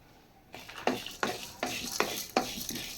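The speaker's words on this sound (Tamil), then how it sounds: "கொஞ்சம் பெருங்காயம் தேங்காய் அதோடு வறுத்துக்கிறோம்" Asafoetida and coconut are dry-roasted in a pan, with a spatula scraping and stirring in about six close, evenly spaced strokes, each a short rasping sweep.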